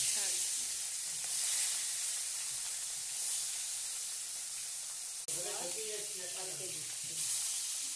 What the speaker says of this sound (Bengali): মাছগুলো এবার তেলে ছাড়ছি।